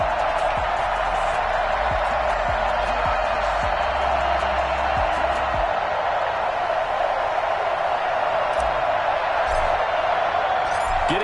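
Steady crowd roar filling an NFL stadium in an EA Sports football video game before a New Orleans Saints versus Tampa Bay Buccaneers matchup, a constant wash of cheering with a few low thumps early on and no break.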